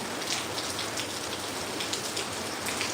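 Steady, heavy monsoon rain falls in Kozhikode, Kerala, a thick, unbroken wash of drops hitting surfaces, loud and close with no voices.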